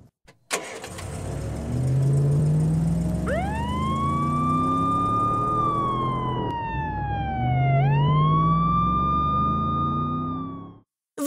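A cartoon police car siren wails loudly and close, rising and falling in long sweeps over a revving engine, with no talk.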